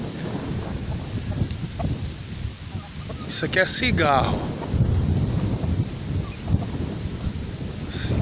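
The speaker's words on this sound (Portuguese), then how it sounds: "Está uma ventania" Strong wind gusting across a pasture with dairy cattle, a constant roaring rush buffeting the microphone throughout, with someone speaking briefly over it midway.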